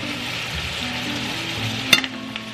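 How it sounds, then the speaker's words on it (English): Steak sizzling steadily in a small pan with a sprig of thyme and garlic, a continuous close frying hiss with a brief louder spatter near the end. "We're gonna add our steak back in. Sprig of thyme. I'm gonna add some garlic to that."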